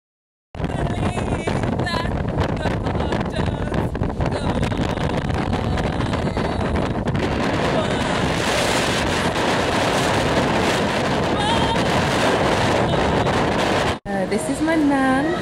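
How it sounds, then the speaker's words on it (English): Strong wind blasting a microphone at a seaside restaurant in Jamaica, with steady, loud roaring buffeting that runs almost without a break. A brief dropout comes near the end. "Gosh, it is so windy and my dress keeps blowing up."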